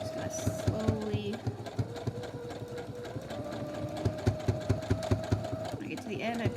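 A sewing machine back stitches a fabric face mask in short bursts of rapid mechanical clatter, stopping and restarting as the stitching goes on.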